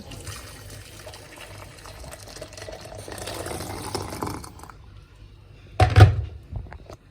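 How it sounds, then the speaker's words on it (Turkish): Water runs steadily for several seconds as it is poured into a kettle for tea in a home kitchen. The flow stops, then a loud thunk and some clatter follow. "Şöyle önce bir suyumuzu koyalım."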